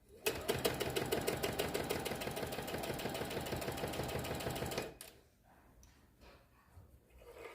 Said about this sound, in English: I will bring it up to the sewing machine, lift the foot up, or presser thing, and put it down, and I will press the start button